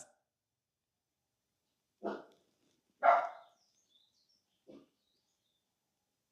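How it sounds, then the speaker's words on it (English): A dog barks outdoors: three to four separate, moderately loud barks spaced over a few seconds, with silence between them and no talk. "What are you barking at?"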